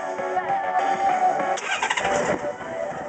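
A motorcycle engine cranks and fires back up in neutral, a close, loud starter whir that catches into a rough, rising idle, alone without talk.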